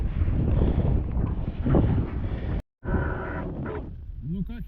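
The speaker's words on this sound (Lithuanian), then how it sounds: "Didelis vėjas neįmanoma." Strong wind gusting over a small motor boat anchored on the Curonian Lagoon while smelt fishing, heavy rumbling buffeting close on the microphone with a brief dropout, and someone speaking over it.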